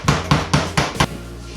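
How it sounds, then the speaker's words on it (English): Meat covered in plastic wrap is pounded to tenderize it, five loud, close, evenly spaced thuds in quick succession, followed by a brief quiet tail. "Saran wrap to cover up the meat so I don't splash anything when I begin to tenderize it and spread it out a little bit."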